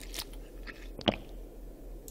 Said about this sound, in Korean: 출출하면은 육포를 좀 씹어보시는 건 어떨까요?